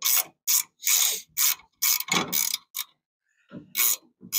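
A ratchet wrench loosening a nut from a bolt during an LS swap fuel system install, with several quick bursts of close, loud clicking separated by short pauses.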